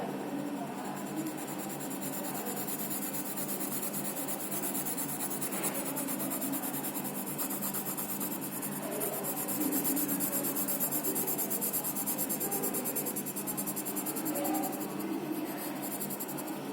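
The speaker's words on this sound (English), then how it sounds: "I have 4B pencil. I'm using 4B here." A 4B graphite pencil shades across paper in steady, continuous scratchy strokes, close and soft, with no talking.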